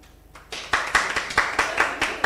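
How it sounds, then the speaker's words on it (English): An audience claps at a youth policy and governance dialogue, starting from a low murmur and swelling into a steady rhythmic burst of hand claps, moderately close, with no talking. "please clap for this side"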